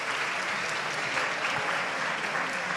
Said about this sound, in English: Another big applause, please, for those guys.